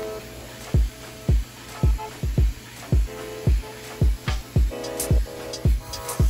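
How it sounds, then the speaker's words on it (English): Quick, repeated sprays from a spray bottle misting dechlorinated water onto plants in a frog enclosure, about a dozen short bursts in an uneven rhythm, close and fairly loud. "I'm now spraying with dechlorinated water."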